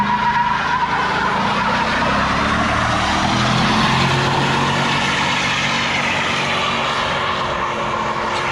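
A sustained roaring truck engine and screeching tires from a long burnout, steady and loud with no talking.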